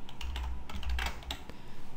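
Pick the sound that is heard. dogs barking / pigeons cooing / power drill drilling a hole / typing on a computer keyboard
typing on a computer keyboard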